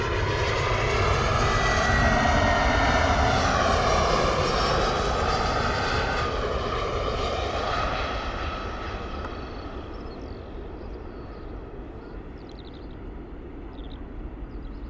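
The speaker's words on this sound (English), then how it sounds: "Lovely touchdown from that 320 coming in from Belfast this morning" Loud roar of an Airbus A320 landing at Bristol Airport after arriving from Belfast, a sweeping whine and rumble that peaks early and then slowly fades as the jet rolls away.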